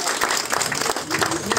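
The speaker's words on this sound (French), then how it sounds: "je crois qu'on peut les applaudir une nouvelle fois." Brief burst of crowd applause at an outdoor political festival gathering, dense clapping mixed with voices, loud and close, cut short.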